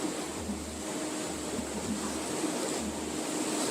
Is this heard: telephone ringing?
no